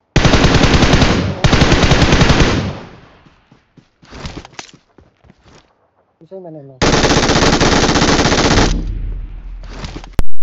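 MG3 machine gun in PUBG Mobile firing long, loud, sustained bursts, with a pause of scattered shots and clicks in between before another extended burst.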